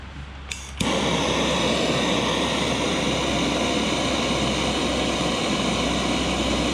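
A tabletop torch lighter is lit after a brief click, then burns with a loud, steady jet-flame roar that stays constant and close, with no talking.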